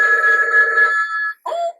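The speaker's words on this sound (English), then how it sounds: "oh boy, a phone call" Vintage Mickey Mouse telephone ringing loudly nearby, a bright electronic trill sustained for over a second, then a short pause and a second brief burst.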